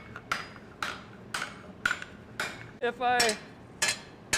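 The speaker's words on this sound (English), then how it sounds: "I'm using a rounding hammer, so it's like it sounds" Rounding hammer striking a steel vessel, shaping the metal with regular sharp ringing metallic blows about every half second, up close. A few spoken words briefly break the rhythm near the end.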